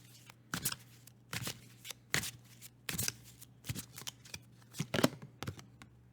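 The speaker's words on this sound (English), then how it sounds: "We'll just pull 3 tarot cards for that." Tarot cards are shuffled and drawn by hand in a series of crisp, rapid riffling bursts, about a dozen sharp flutters in an irregular rhythm, close and fairly quiet against a low steady hum.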